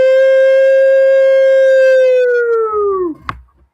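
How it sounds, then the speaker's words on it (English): A loud wailing siren holds one steady, harmonic-rich tone, then winds down and drops away near the end, followed by a brief sharp knock and low rumble. "a whole siren going"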